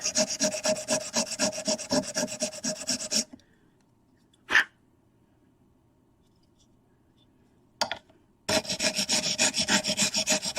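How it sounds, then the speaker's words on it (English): 80-grit sandpaper on a firm pad rasps back and forth over a model part in fast, rhythmic strokes. The sanding stops into near silence with a couple of faint knocks, then resumes just as briskly. "with a 80 grit sandpaper on a firm pad"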